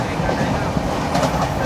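The Nizamuddin Ernakulam Duronto Express running through Mangaon station on the Konkan Railway, heard from on board as a loud, steady roar and rattle of wheels and carriages.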